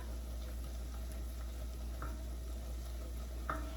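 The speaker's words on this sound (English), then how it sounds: "I add 3 cloves of garlic that's been minced. And I'm just gonna put that in, stir it around until it's fragrant." Three cloves of minced garlic frying in a pot for a keto broccoli and cheddar soup, a steady low sizzle under a constant hum, with a couple of brief spoon scrapes as it is stirred, close and fairly quiet.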